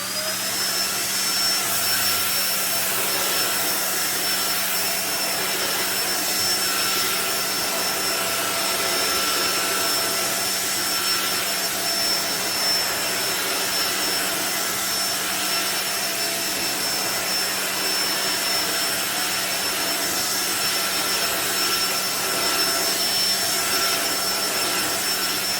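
A Riccar Steward stick vacuum cleaner drones continuously on carpet with a high whine over a broad airy roar, steady and close throughout, no voices.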